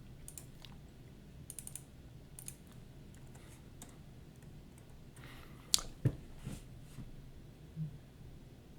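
Keys tap on a computer keyboard with scattered mouse clicks, quiet irregular bursts of typing and a few sharper clicks, close and soft against a low hum, with no talking.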